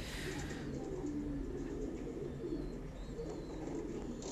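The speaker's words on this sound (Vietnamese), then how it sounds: "Còn những đây là cặp chim bồ câu cảnh này, đây là chim bồ câu thổi kèn mọi người ạ." Pigeons, including trumpeter pigeons, coo continuously on a pigeon farm, a dense, close chorus of low throaty calls with occasional chirps and no speech.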